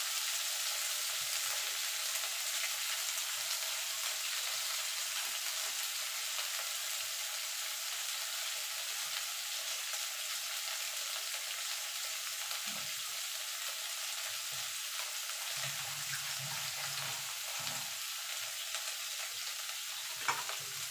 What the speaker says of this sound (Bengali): করলাগুলো লাল লাল করে ভেজে নেবো।